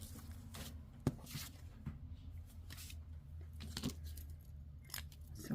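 Scissors snip around a piece of card paper for a handmade birthday card, with short close crisp cuts repeating in an irregular rhythm and a sharp click, and no talking.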